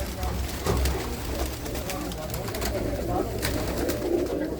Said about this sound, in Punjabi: ਬਹੁਤ ਸੋਹਣੇ ਕਬੂਤਰ ਆ